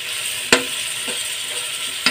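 Tomatoes frying with chicken in a pan for spicy chicken and vegetable spaghetti give a steady, close sizzling hiss, broken by two sharp scrapes of a stirring utensil near the start and end.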